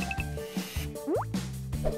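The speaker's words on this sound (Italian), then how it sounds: "Versaci sopra l'acqua." Water poured over a painted doll craft to wash the paint away: a few wet plops and drips scattered over light background music, short and close.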